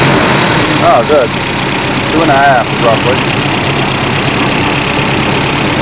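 An engine in a 1992 car idling after a Tomei universal fuel pressure regulator install, a loud steady low rumble throughout, with people talking briefly over it.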